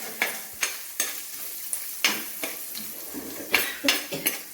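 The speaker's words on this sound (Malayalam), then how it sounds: "തേങ്ങ നന്നായിട്ട് മൂത്ത് വരുന്നേരം നമുക്ക് ഇളക്കി കൊടുക്കാം" Grated coconut roasts with salt and turmeric in a pan for Kerala-style beef curry while a spoon scrapes through it in about ten distinct, unevenly spaced strokes over a faint, close sizzle.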